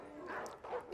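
Dogs in a fantasy TV battle episode give a brief, faint pair of yelping barks, low in level beneath ambient sound.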